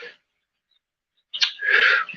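One person sneezes, a short intake of breath and then a sharp burst, preceded by a brief vocal sound and a pause of silence.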